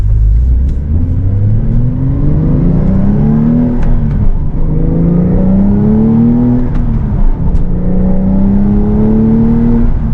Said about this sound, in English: the chorus, the beauty of this engine paired with this 7-speed manual transmission